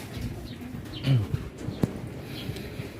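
Racing pigeons coo softly at feeding time, a couple of low, brief coos close by over a quiet background with faint rustling.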